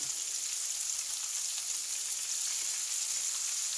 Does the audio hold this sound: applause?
no